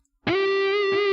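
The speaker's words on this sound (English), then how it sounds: "ping pong effect, right?" A sustained distorted guitar note rings out through a Blackstar amp plugin with a ping pong delay, the echo bouncing in about half a second later.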